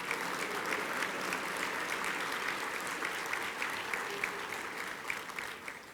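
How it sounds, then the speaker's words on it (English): Conference audience at a summit keynote breaks into sustained applause, a dense wash of clapping at steady volume that tapers slightly toward the end, with no speech over it. "Would you all give them a round of applause"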